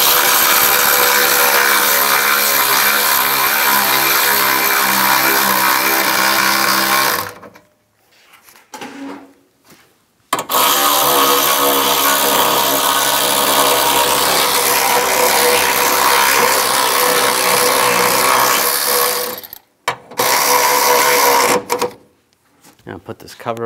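Power tool tightening bolts on a GMC Yukon XL A/C condenser, three loud sustained whirring bursts broken by short silent gaps, close to the listener.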